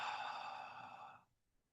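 A long, breathy exhale during a tai chi breathing exercise, steady and close, fading out after about a second and a quarter into near silence.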